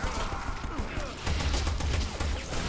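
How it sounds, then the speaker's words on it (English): Dense gunfire in Resident Evil 6 crackles continuously, loud rapid shots and impacts layered over deep rumbling, with voices faintly underneath. "Dude, stop firing your gun!"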